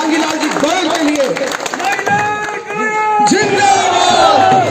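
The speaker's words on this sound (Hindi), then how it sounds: "जोरदार तालियां मांगीलाल जी गोयल के लिए।" A loud crowd at an outdoor political rally in Bhadra cheers and claps, with many voices shouting and chanting over scattered clapping, close and energetic throughout.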